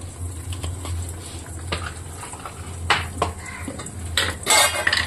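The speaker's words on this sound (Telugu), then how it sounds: "ఎగ్ ఫ్రైడ్ రైస్ చేసుకోవడానికి 2 ఎగ్స్ వేసి ఫ్రై చేసుకోవాలి." Two eggs fry in a pan for egg fried rice, with a faint steady sizzle under repeated close metallic clinks and scrapes of a utensil against the pan.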